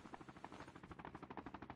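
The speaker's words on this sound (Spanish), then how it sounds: "Un helicóptero por ahí." A helicopter in the mobile shooter Call of Duty Mobile beats with steady, rapid rotor thumps, faint and distant at first, then slightly closer and more regular, with no voices.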